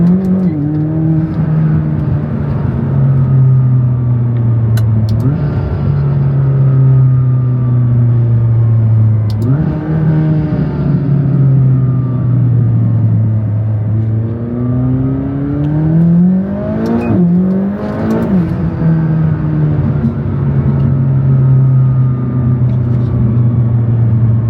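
McLaren 570S sports car pulled hard through the gears from inside the cabin, a loud rising engine roar repeatedly climbing in pitch, dropping at each shift and surging again, with a sharper rev burst near the end.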